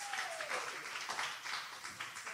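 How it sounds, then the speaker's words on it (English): Applause from a crowd at a live Valentine's Day lounge show, a dense continuous patter of clapping at moderate level, with a faint falling tone briefly audible in the background. "clap for yourselves"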